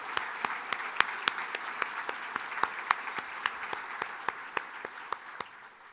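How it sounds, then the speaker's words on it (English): Steady round of applause from an audience at a breakfast event, with many sharp individual claps standing out over a dense, even clatter that runs throughout without talk. "So if I could get that round of applause now"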